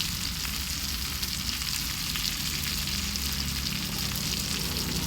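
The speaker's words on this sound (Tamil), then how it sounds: "இன்னும் ஒரு 5 நிமிஷம் கிளம்பிச்சுன்னா நல்ல ஒரு அருமையான மீன் வறுவல் ரெடி ஆகிடும்" Fish frying in a pan for a fish fry, a steady close sizzle and crackle of hot oil running continuously and alone, with no talking.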